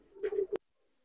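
A Nildumma pigeon gives one short, soft coo lasting under half a second, ending in a sharp click, followed by near silence.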